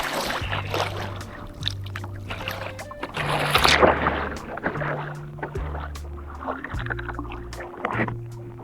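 Kayak paddling through choppy water on the ride back from the Caladesi Island and Honeymoon Island kayak trail, with the boat's engine-like low drone and wind and water splashing in repeated surges, close to the microphone.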